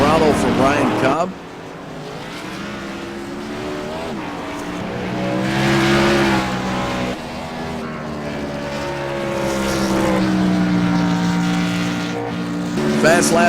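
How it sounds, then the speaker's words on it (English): A race car engine revving and easing on the throttle during a victory lap at Sonoma Raceway, a loud sustained drone rising and falling in pitch with rapid gear-like swells, close by throughout. "You can hear the excitement on the throttle from Ryan Cobb."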